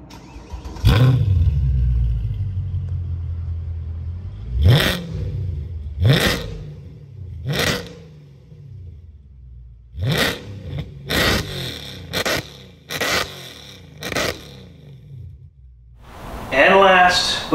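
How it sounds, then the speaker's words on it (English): A Mercedes W204 C63 AMG with a fully catless exhaust barks through about ten sharp, throaty rev blips spaced irregularly, each dropping away quickly, then ends on a longer rising rev. "Next up, we have the exact same exhaust system, more or less, except for a big detail, which there are no cats this time, so fully catless."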